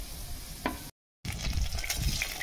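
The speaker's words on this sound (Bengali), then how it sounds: "দেখুন সবগুলো ভাজা হয়ে গেছে।" Labanga latika sweets, clove-pinned flour pastries, frying in hot oil, giving a steady soft sizzle and bubbling at close range that stops briefly and then resumes, with no talking.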